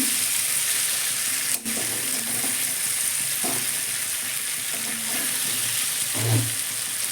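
Soft, sweet madhu bhola fish fries gently in oil in a pan, giving a steady, fairly loud hiss with occasional soft knocks and spatula touches, no talking.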